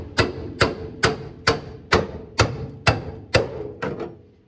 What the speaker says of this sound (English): we'll go at it with the old-fashioned hammer and chisel